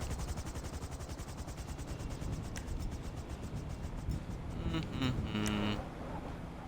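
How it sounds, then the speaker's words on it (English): Military rifle gunfire rattles in GTA Online as rapid, evenly spaced shots in long sustained bursts, fairly loud and continuous over the background, with a brief metallic ring near the end. "Military rifle. That sounds nice."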